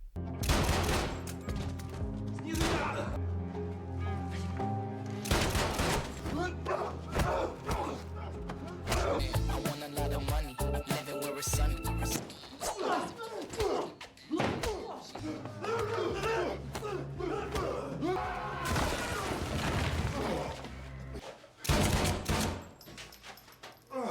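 Bursts of video game gunfire and heavy impacts crackle through a chaotic battle, with rapid shots, thuds and a voice talking over the din.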